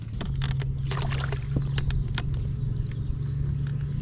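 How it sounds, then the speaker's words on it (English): A small electric outboard motor, an Orkney model, runs steadily on a fishing boat with a constant low hum and a whine, joined by scattered light knocks and water splashes and no talking. "Very, very impressed with these little electric outboard motors like this."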